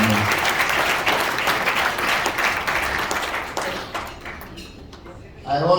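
A dinner audience applauds steadily for several seconds, a dense wash of clapping that fades near the end before a voice starts speaking at a microphone.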